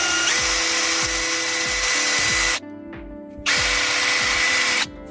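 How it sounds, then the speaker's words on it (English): A power drill whines loudly in two long bursts, with a short pause between, its motor pitch dipping as the bit bites. "Drill those holes out."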